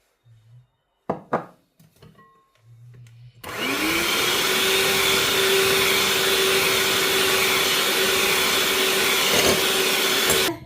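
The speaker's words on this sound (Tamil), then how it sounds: "இந்த வெள்ளைக்கருவில் நான் கொஞ்சம் கொஞ்சமாக இந்த பவுடர் பண்ணின சுகரை போட்டு அடிக்க போகிறேன்" An electric mixer beats egg whites with powdered sugar for a chocolate cake, starting after a few brief bowl knocks and then whirring loudly and steadily at close range without pause.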